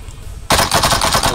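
Rapid automatic gunfire in the mobile shooter Warzone Mobile: a short, loud, close burst of repeated shots starting abruptly after a brief pause and running to the end, with no speech.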